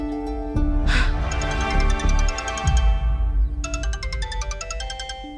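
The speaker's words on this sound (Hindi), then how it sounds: "तेजस सर जल्दी फोन उठाओ ना" A phone's electronic ringtone plays a repeating melodic pattern of bright tones, with a burst of noise and some rustling partway through.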